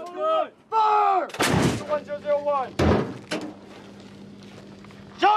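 An artillery gun fires two loud, sharp blasts a little over a second apart, each with a short rumbling decay, amid shouted crew commands and metallic clanks.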